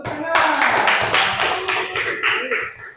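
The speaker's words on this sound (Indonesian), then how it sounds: "Luar biasa, tepuk tangan." Classroom applause from a group of students, a burst of many hands clapping close and loud for about three seconds, a voice faintly audible underneath.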